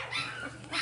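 A mother golden dog barks near her newborn puppy, giving a couple of short, close yips and barks at moderate volume with no talking.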